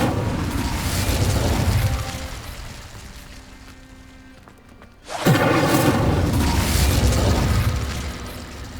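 An Incendio fire spell is cast in the Hogwarts Legacy video game: a sudden loud whooshing burst of flame erupts after a quieter stretch of ambient game sound, then roars on before fading slightly.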